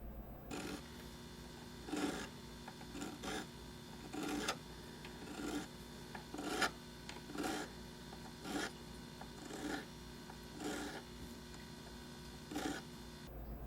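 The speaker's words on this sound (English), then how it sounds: "it's also easier to prevent the file from angling too steeply downward and gouging the fingerboard" Metal file dressing guitar frets, rhythmic rasping strokes repeating about every second over a faint background hum, quiet and close.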